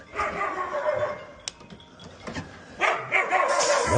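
A small dog yaps and barks in short bursts, fairly close, with whimpering tones and some mechanical background noise.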